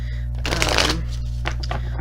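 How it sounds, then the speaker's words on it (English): Oracle cards being shuffled in a quick riffling burst, crisp papery flutter up close, followed by a few softer taps and shuffles. "Now I'm shuffling the Goddess Guidance Oracle"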